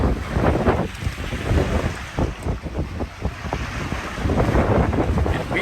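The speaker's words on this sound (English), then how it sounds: "we are sailing, the engines are off" A sailboat under way with its engines off, heading toward Cairns after leaving the reef, with steady wind buffeting the microphone and water rushing and slapping against the hull throughout.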